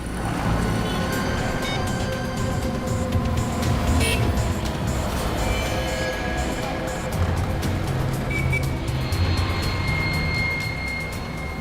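A car engine hums continuously with road rumble, a steady close-up drone from inside a moving vehicle.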